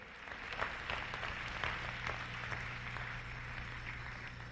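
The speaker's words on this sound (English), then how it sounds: "Clap your hands and thank God" A church congregation claps hands together at a service, a dense steady patter of many hands spread evenly through the room with a low hum underneath, no one speaking over it.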